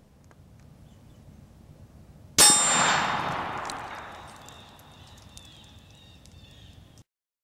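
A 5.56 mm NATO green-tip steel-core bullet strikes an AR500 steel plate at short range, one sharp metallic clang that rings and fades over a few seconds against quiet background.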